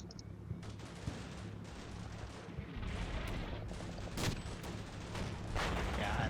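Mortar and gunfire sounds from the Combat Mission Shock Force 2 video game, a dense, continuous rumble of distant bangs and booms at moderate level with no clear voices.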